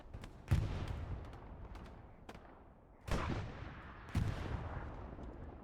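Artillery shells land in the Hell Let Loose video game, with three heavy booming impacts spaced a few seconds apart, each trailing off into a rumbling decay over faint background battle noise.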